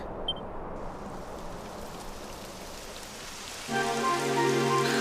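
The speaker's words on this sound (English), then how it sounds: "It would have to go and start raining, wouldn't it?" Steady rain patters on a surface in a video game, Dragon Quest XI, constant and moderately loud, joined near the end by a sustained tonal drone layered over the rainfall.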